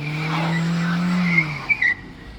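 A car accelerates on slippery ground during a driving lesson: a steady engine drone with a faint tire squeal holds for about a second and a half, then drops away, close and alone.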